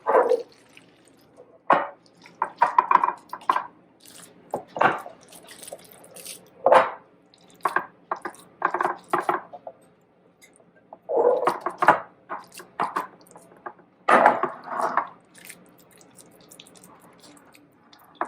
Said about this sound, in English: I'm just going to press that down into my pan.